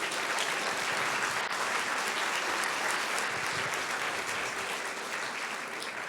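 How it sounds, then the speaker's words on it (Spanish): A church congregation gives loud, sustained applause to the Lord during a worship service, a dense wash of many hands clapping that stays steady for several seconds with no voices over it. "Denle un fuerte aplauso al Señor."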